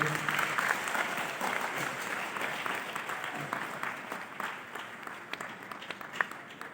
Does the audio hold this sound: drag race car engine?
no